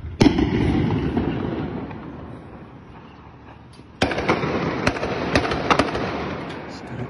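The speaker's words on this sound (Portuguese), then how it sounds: "Mano, tá tendo tiroteio aqui no centro, velho." Gunfire during a downtown bank robbery, sharp bangs and cracking bursts echoing across the street, with a loud rumbling volley at the start and renewed sharp shots after a lull.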